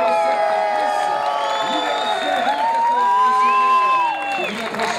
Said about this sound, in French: On applaudit bien fort la candidature